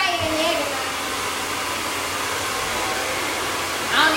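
A blow dryer roars continuously close by during wig installation, a steady airy hiss that swells slightly at the start and again at the very end.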